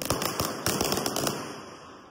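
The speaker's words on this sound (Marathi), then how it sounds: "आता आम्ही मस्त पैकी फटाके आणले आणि मग आता फटाके फोडू" Firecrackers set off during Diwali celebrations crackle in a rapid string of sharp bursts, loud and close, with the popping thinning out into a fading sizzle toward the end.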